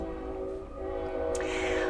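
A train horn sound effect blares in a long sustained tone under a murky, dense background, holding steady and loud throughout with a brief bright hiss near the end.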